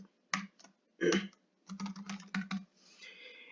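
Keystrokes on a computer keyboard while a password is entered during software installation, arriving in short irregular bursts of close, crisp clicks with brief pauses between them, heard alone.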